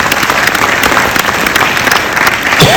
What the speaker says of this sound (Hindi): अपनी जोरदार तालियों से इन सब का हौसला बढ़ाएं।